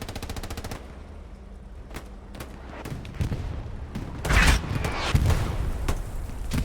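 Artillery and gunfire in the World War II shooter Hell Let Loose on the Omaha map: a rapid machine-gun burst, scattered sharp shots, then heavy booming artillery impacts and rumbling blasts, loud and close.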